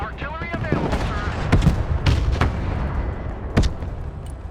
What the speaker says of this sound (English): They're shooting us in the back